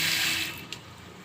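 Hot water runs steadily from a household tap, a close and fairly loud gush for the first half-second that then eases off to a quieter flow, with no talking.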